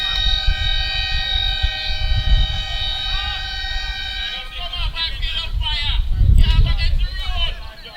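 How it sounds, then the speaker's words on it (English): Lightning warning sirens at a high school sports game between Myrtle Grove and Coconut Creek wail with loud, steady layered tones, while crowd chatter and voices rise beneath and grow louder toward the end. "So as you can hear those sirens that is sounding"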